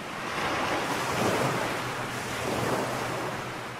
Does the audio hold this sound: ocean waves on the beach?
yes